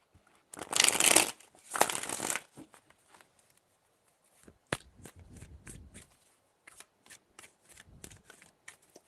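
A deck of tarot cards is shuffled close up in two loud, riffling bursts, followed by softer sporadic flicks and taps of cards being handled, in a quiet room without talk.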